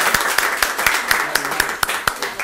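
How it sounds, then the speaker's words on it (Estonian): A debate audience gives sparse, distinct claps, a scattered round of hands with individual sharp strikes in an irregular rhythm, fairly close and without speech. "üksteisele suure aplausi selle tänase debati eest"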